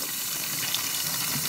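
A miniature toilet with a siphon jet flushes, giving a steady, close rush of running water that holds even and unbroken for the whole moment.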